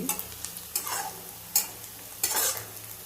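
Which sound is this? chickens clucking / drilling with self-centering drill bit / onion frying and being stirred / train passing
onion frying and being stirred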